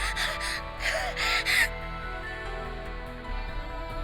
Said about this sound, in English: I roughly gasp for air, panting like a dog